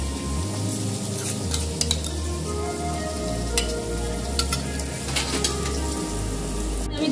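Chilli chicken with tomato sauce frying and being stirred in a pan, a steady close sizzle with scraping stir strokes and occasional clinks, no voices.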